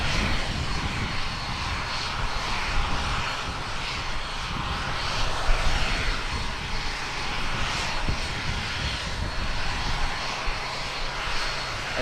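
An ATR 72 turboprop airliner bound for Christchurch departs from Tauranga, its propeller engines holding a constant heavy drone with a faint pulsing throb, loud and sustained throughout with no voices.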